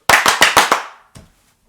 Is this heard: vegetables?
no